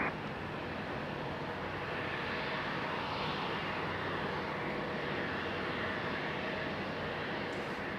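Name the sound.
Boeing 777 airliner taxiing at Raleigh-Durham airport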